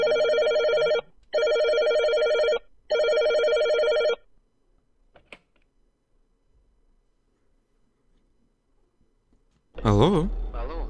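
A telephone rings three times in an even electronic pattern inside the horror video game Five Nights at Barsik, then goes quiet before a voice answers at the end.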